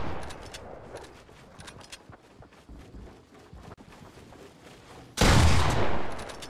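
Gunfire in a Fortnite Battle Royale match: a quiet stretch of faint scattered shots, then a sudden loud, dense burst of firing near the end.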